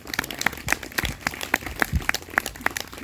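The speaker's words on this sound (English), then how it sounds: "So round of applause for Richard." Audience applause at a school band awards ceremony, sparse individual claps in an irregular rhythm from a modest crowd, fairly quiet and without talk.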